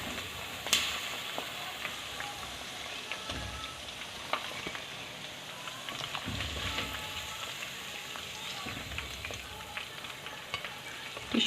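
Fried chicken pieces in hot oil being scooped out, heard as a constant bubbling, crackling sizzle with occasional light clinks of a utensil, fairly quiet and close.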